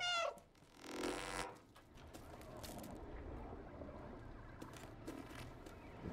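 A cat in the video game Stray gives a short, clear meow at the start, followed by a low hum and soft, steady ambient noise.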